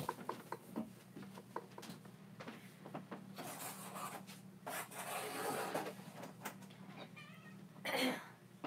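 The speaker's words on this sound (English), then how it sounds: "there's a cat in my room being bad" A cat moves around an indoor room, with soft rubbing and scratching noises, quiet thumps and a couple of short meows near the end, all fairly faint and close.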